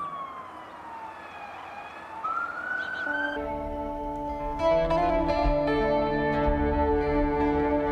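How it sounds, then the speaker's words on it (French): Sirens wail and rise, first one sliding tone, then several loud overlapping horns and sirens blaring together nearby. "Les sirènes sonnent."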